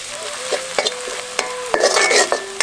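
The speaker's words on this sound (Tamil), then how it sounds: "அரைச்சு வச்சிருந்த பிரண்டையை சேர்த்து இன்னொரு முறை நல்லா வதக்கிடுவோம்" A spoon stirs ground pirandai (adamant creeper) paste with mustard in hot oil for a pickle, producing busy close sizzling with repeated scraping strokes and clinks against the pan over a few seconds, no voices.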